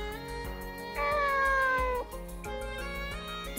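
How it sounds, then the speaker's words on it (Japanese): A cat meows in the video game Nights of Azure, a clear sustained mew rising and falling over steady game music, heard alone with no talking. "ああ、この猫ちゃん？"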